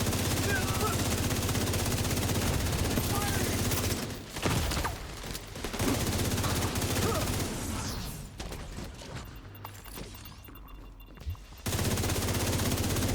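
Video game gunfire rattles in dense automatic bursts, loud and nearly continuous. It thins into scattered shots and mechanical noise midway, then the heavy firing resumes at the end.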